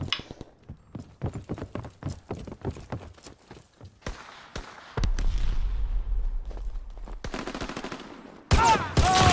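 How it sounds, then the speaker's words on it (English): Call of Duty WW2 gunfire plays as a rapid string of sharp cracks and irregular bursts, followed by a rumbling stretch and a loud blast at the end. "Hey, that was a shotgun."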